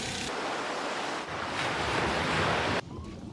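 Ocean surf and wind roar together as a steady, dense wash of noise, loud and close, with a brief dip partway through and a sudden quieter stretch near the end.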